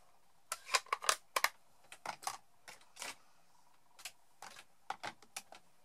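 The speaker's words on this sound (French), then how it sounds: "Et je vais découper mes fleurs." Scissors cut out small coffee-coloured paper flowers with a series of crisp, close snips. The snips come in irregular clusters and are quiet and distinct against near silence.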